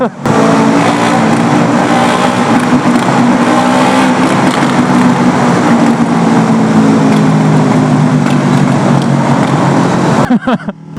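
A Yamaha R25 motorcycle with an open exhaust roars loud and close in a steady, continuous drone that runs throughout before cutting off sharply at the end.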